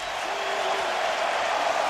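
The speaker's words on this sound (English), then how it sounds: "Crowd getting revved up." A college football stadium crowd at a Louisville at NC State game makes a dense, steady roar of cheering that fills the whole moment at a fairly loud, even level.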